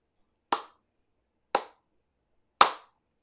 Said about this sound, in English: You start clapping to her